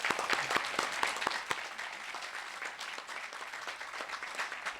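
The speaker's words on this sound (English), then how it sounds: "Please give them a round of applause" Applause at a high school graduation ceremony: a crowd clapping steadily, distinct claps audible within the dense patter, fairly faint and distant, continuing evenly without voices over it.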